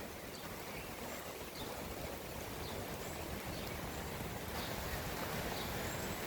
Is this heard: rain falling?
yes